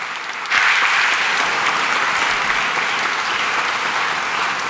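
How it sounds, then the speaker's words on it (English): An audience in a lecture hall breaks into applause for a sociologist speaker, a sudden full burst of many hands that holds steady and dense throughout. "So please give her a warm round of applause."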